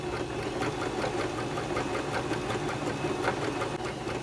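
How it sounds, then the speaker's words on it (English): A sewing machine stitches fabric slowly with a back-and-forth feeding motion, giving a steady mechanical hum with regular rapid clicking, close by and fairly quiet, with no talk. "So the machine takes the fabric in like this back and forth motion."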